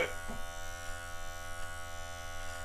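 An electric trimmer cuts coarse beard hair, a faint steady close buzz with a brief louder bite at the start and no talking.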